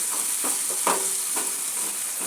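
Crushed onions frying in a pan for egg curry, making a close, bright, steady sizzle with a few soft stirring scrapes spaced throughout.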